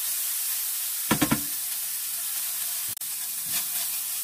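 Ground chicken with sesame sauce and black pepper sizzling in a pan as it is stirred, a steady close hiss broken by a quick burst of spatula scrapes and a couple of later clacks.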